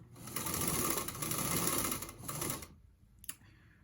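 A sewing machine runs steadily for about two and a half seconds while stitching pieces of a Trip Around the Sun quilt, then stops, leaving a brief faint click.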